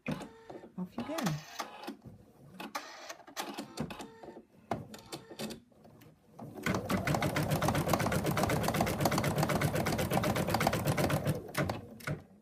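An embroidery machine stitches a cat design, running steadily and loudly in a fast rhythmic whir for the second half after quieter handling and talk earlier.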